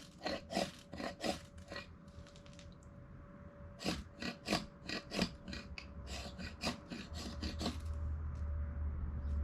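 A knife spine is scraped against a ferro rod to throw sparks for fire starting, giving a run of sharp, rasping strikes in quick bursts, close and fairly loud, followed by a steady low rumble, with no talk.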